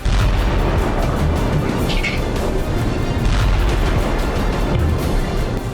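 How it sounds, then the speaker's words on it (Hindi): A missile strike on a power plant in Belgorod produces a dense, sustained roar of explosive rumble and crackle, heavy and continuous across the whole stretch, with no voices. "अचानक गरजती हुई एक मिसाइल बेलगोरोद के पावर प्लांट पर गिरी और जोरदार धमाका हुआ"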